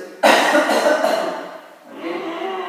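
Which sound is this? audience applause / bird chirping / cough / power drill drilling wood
cough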